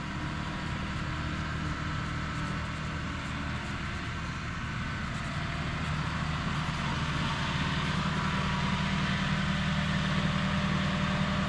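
A tractor pulling a sprayer on a farm drones steadily at close range, a constant low rumble with mechanical hum and no pauses throughout.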